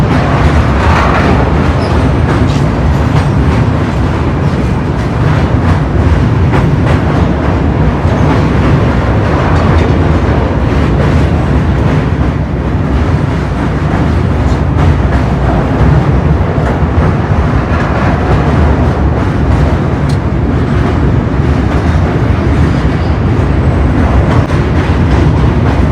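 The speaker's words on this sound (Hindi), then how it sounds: "इसलिए धीमे धीमे निकल रही है ट्रेन यहाँ से" Rajdhani Express from Delhi to Secunderabad rolling slowly under a 30 km/h caution over the Wardha river bridge after Balharshah, a loud continuous rumble and rattle of wheels and wagons heard from on board, with no talk.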